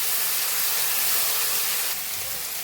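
Turmeric and Kashmiri chilli powder spices hiss and sizzle loudly in a hot pan as water is poured in, a steady broadband steam hiss that eases slightly toward the end, with no talking.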